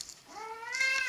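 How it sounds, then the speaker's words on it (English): A house cat gives a single rising, drawn-out meow, close and clear, with no talking over it. "Oh, and my cat has found us."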